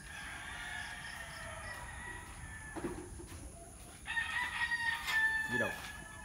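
A farm rooster crows with rising, strained calls in the second half, over steady background insect-like buzz and faint rural ambience, moderately near.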